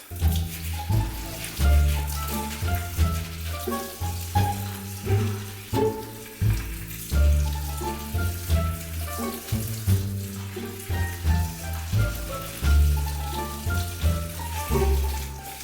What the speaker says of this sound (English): I'm gonna wash my rice now and make sure I get all of the suds out of it.